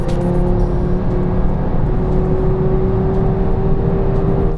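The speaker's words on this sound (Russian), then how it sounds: "Чуть-чуть тормозить, чуть-чуть разгоняться, чуть-чуть нажимать на педаль газа, просто чтобы послушать это" Audi TT RS engine under light throttle, a steady close drone with a sustained tonal hum that holds through the whole stretch, with no voices.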